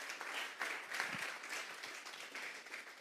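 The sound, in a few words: audience applause in church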